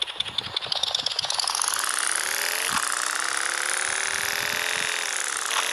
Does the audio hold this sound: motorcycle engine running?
yes